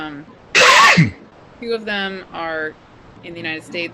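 A single loud, close sneeze bursts out between stretches of conversational speech, with people talking before and after it.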